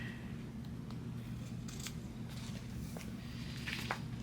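Scissors trimming the overhanging fabric piping on a bag, a handful of quiet, close snips and blade slides at irregular intervals over a soft steady background hum, with no talking.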